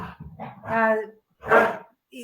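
Several excited pet dogs bark and yelp indoors at home just before bedtime, two loud bursts of harmonic barking with a short pause between them, close to the listener, mixed with other household noise.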